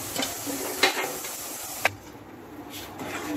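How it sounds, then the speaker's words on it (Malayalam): Chickpeas fry in a pan with a soft, steady sizzle and hiss, broken by a couple of sharp clicks, close and fairly quiet. "നമ്മുടെ കടല ഇട്ട് കൊടുക്കുന്നുണ്ട് നമ്മൾ കടലയും വറുത്തെടുക്കുന്നുണ്ട്"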